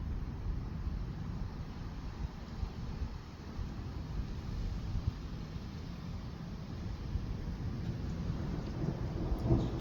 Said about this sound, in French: Ah, il est vraiment à quelques centaines de mètres, l'orage, hein.